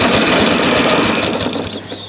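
Craftsman LT1000 lawn tractor engine cranking, a loud continuous mechanical churning with rapid pulsing that runs steadily for about two seconds before easing slightly, no voices over it.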